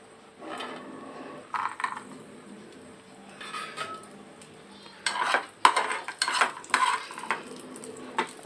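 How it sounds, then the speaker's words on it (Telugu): Almonds, cashews and raisins frying in a spoonful of ghee in a small kadai, with soft sizzling under intermittent scraping and stirring clinks of a spoon against the pan, growing busier toward the end. "ఒక చిన్న కడాయి పెట్టుకొని దాంట్లో 1 స్పూను నెయ్యి వేయాలి. తర్వాత బాదం పప్పు, జీడిపప్పు, కిస్మిస్లను వేసి ఫ్రై చేసుకోవాలి."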